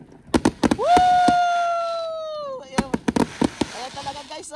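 Fireworks burst at a Canada Day display in a rapid cluster of loud, sharp bangs with crackling, broken by a long rising whistle, while excited voices cheer and talk nearby.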